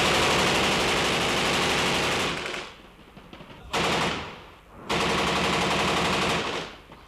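Heavy automatic gunfire rattles during an urban battle between federal and Croatian forces, long loud bursts of rapid shots broken by short pauses, three sustained volleys in all.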